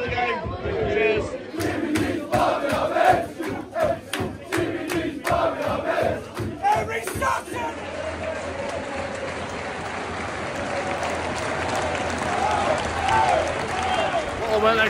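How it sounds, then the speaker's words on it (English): Applause and crowd noise from a football stand at a Notts County versus Scunthorpe United match: sharp, scattered claps in the first half give way to a dense, steady crowd roar, with voices talking over it. "I weren't expecting a round of applause"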